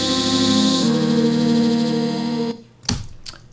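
Dry Grainvox pad synth without its black hole reverb and EQ plugins, a sustained buzzy harmonic chord that shifts once, then cuts off, followed by a few soft clicks.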